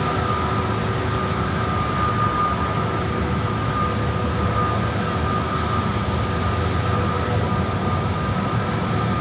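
BAe 146 jet aircraft at Sydney airport, a steady broadband roar of engines holding even throughout, moderately loud and distant, with no talk.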